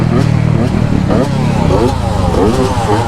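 Two-stroke dirt bike engines rev loudly and continuously on a night ride in Jamaica, a dense, rasping drone with repeated throttle rises, heard under excited shouting voices.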